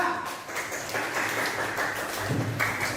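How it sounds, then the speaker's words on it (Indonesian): Group 2 receiving applause in a classroom teaching session, a moderate, steady patter of many hands clapping that continues evenly throughout. "beri tepuk tangan untuk kelompok 2"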